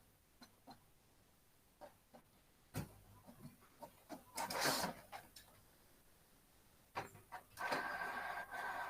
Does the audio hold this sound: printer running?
yes